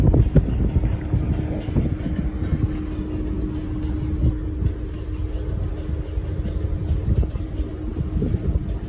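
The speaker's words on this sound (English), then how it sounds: "And it's windy, guys." Steady, blustery wind on the Atlantic Ocean roaring across the microphone with a low rumbling hum underneath, continuous and fairly loud throughout, no voices.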